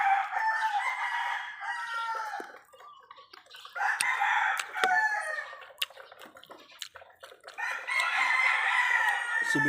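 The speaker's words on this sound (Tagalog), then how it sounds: "Bay, wala namang manok na tahimik." A flock of chickens and roosters crows and clucks nearby in repeated, overlapping loud calls, with short quieter gaps and a few sharp knocks between them.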